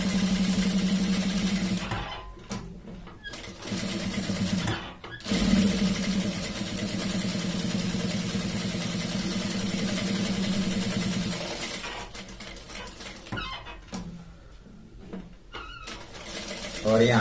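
A sewing machine stitching over an existing seam on a shirt collar, a steady mechanical whirr running in bursts with brief stops between, close by, and a voice speaking at times over it.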